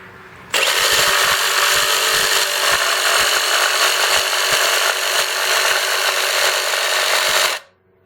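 Kobalt 24-volt brushless cordless jigsaw cutting through wood with its blower switched off, a steady loud buzzing saw drone with rapid blade chatter running about seven seconds before stopping abruptly, no talk.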